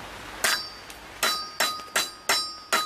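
Six sharp metallic taps drive a bearing into a homemade metal drift trike wheel, each hit ringing briefly with a bell-like tone, spaced at a steady rhythm and heard close.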